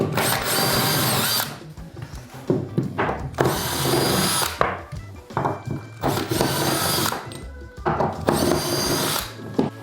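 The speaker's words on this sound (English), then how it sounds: "get a drill bit where it's also an Allen key so you can remove these super fast" A power drill fitted with an Allen key bit spins out climbing hold bolts on a hangboard in repeated loud, whining bursts of a few seconds each, separated by short pauses and clicks as each bolt is backed out.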